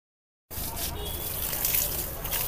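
Water pours steadily onto dusty plants, a continuous splashing trickle that starts abruptly and runs without pause, fairly loud and close.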